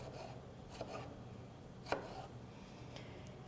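A knife gives a rough chop to a halved vine-ripe tomato on a board: a few soft, sparse cuts spaced about a second apart, one sharper knock standing out, quiet and close with no talking.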